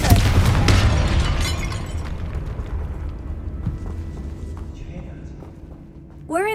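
A Confringo blasting spell explodes in a tomb in the video game Hogwarts Legacy: a loud, sudden burst at the start that slowly decays into a rumbling, crackling tail, with a brief rising whistle-like tone near the end.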